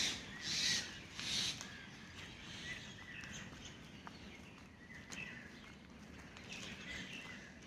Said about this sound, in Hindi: बिल्कुल साफ साफ आवाज़ आ रही है पक्षियों की।